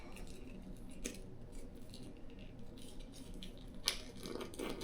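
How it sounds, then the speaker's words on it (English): Scissors blade scrapes along ribbon to curl it into twirls during a craft project, soft close rasping strokes with a brief sharper snip near the end. "I'm going to use my scissors and make little twirls."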